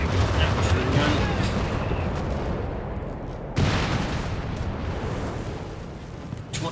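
Dive bomb explosions in Company of Heroes 3 land as heavy, rumbling booms, one big blast at the start and another sharp one midway, each trailing into a long roar while a voice talks over them.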